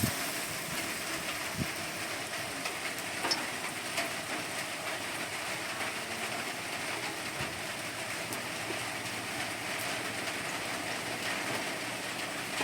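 Spoonfuls of lentil batter, shaped into little square pieces, sizzle and crackle in hot oil, a dense steady hiss with scattered pops that continues unbroken and fairly loud throughout.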